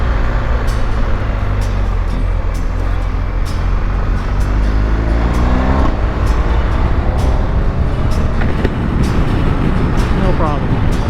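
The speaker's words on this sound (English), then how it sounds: "Oh, look at there, into 3rd. No problem. Down to 2nd. No problem. The quick shifter is not a problem." A 2022 BMW R1250GS motorcycle ridden through a curve, its engine droning steadily as it shifts up into third and back down to second with the quick shifter, while a rider talks over the continuous wind and road noise.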